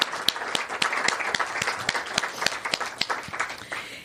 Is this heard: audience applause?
yes